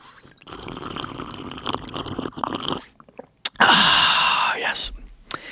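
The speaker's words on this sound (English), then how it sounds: "if I drink water, you're actually going to hear like every sip" Someone drinks water close to a high-end microphone. Wet sips, swallows and small mouth sounds are heard up close, with breathy noise between them.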